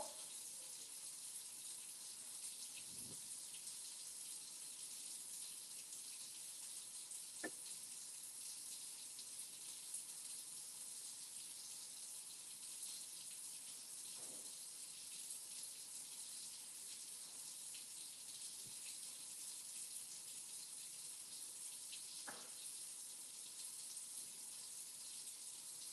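Tap water running steadily into a kitchen sink, a continuous faint hiss with a few soft clicks and knocks scattered through it.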